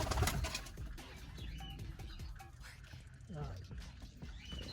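Racing pigeons coo in a loft, soft repeated burbling calls scattered through the stretch with faint rustling, while someone talks over them.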